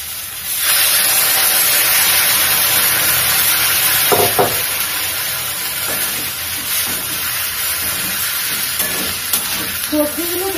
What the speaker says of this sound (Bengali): সমস্ত সবজি দিয়ে আমি একটু নেড়ে ছেড়ে সেটাকে জল দিয়ে দেবো।